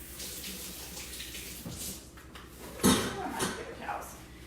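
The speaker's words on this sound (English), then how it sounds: "Let me wash my hands real quick." Hands washed under a running kitchen tap: a faint, steady trickle of water with a few brief splashes as hands move under the stream, quiet and close.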